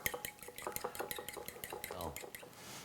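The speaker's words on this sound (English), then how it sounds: "Then give it a good mix up." A spoon scrapes and knocks rhythmically around a small bowl as vanilla and egg are mixed into cookie dough, quick repeated clinks and stirring strokes, close and fairly quiet with no talk.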